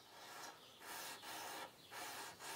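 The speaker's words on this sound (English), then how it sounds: "taking some 1200 grit paper after two or three of these etches and flattening the tops off the nickel" A hard, flat sanding block with 1200 grit paper is rubbed over a ladder pattern chef knife blade of nickel and 1095 steel, giving four rhythmic rasping strokes with short gaps, close and quiet.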